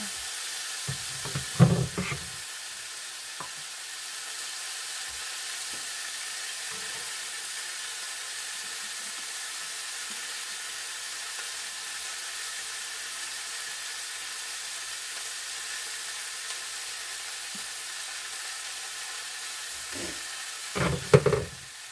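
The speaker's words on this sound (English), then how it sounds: "Now what I'm going to do is I am going to put the collards in now." Collard greens sizzling in a pan with pork chops and bacon grease, a steady soft hiss throughout, with a few clattering stirs near the start and end, close and fairly quiet, no talking.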